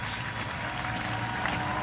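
Crowds in Livingston, Zambia cheer and applaud continuously, a dense, even wash of clapping and distant cheering with no break from start to finish.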